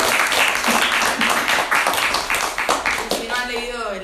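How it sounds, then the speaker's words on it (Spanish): An audience applauds after a talk with writer Walter Lezcano, close steady clapping from a small room while a voice speaks over it. "lo aplaudimos a Walter entonces"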